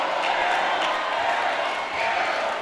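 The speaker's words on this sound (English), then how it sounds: "The crowd letting her hear it." A varsity high school basketball crowd reacts to an air ball in a gym, a steady, loud wash of crowd noise and jeering voices that holds throughout without a break.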